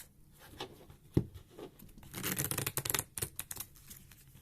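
A deck of Pokemon trading cards is shuffled quickly by hand with close, dry papery riffles and taps that build to a busier flutter of cards partway through.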